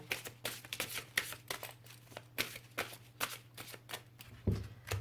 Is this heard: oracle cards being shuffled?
yes